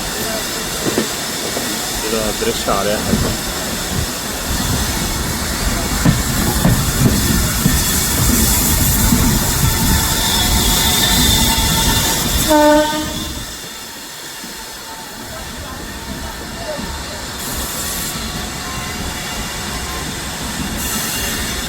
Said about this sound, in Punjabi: ਆਪਣੀ ਟ੍ਰੇਨ ਇੱਥੋਂ ਪਟਿਆਲੇ ਨੂੰ ਆ ਦੇਖੋ ਲੈ ਰਹੀ ਹੈ